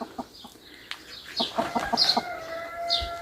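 Several short clucks and chirps from a hen and small chicks in a village coop, close by, scattered irregularly with brief bright peeps.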